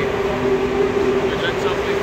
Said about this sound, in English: We're in the subway.